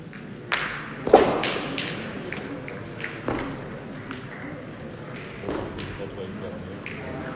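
Petanque boules thud onto the ground during a European championship match in 2022, with several dull impacts spread across the clip, one sharper and louder, under crowd murmur and commentary.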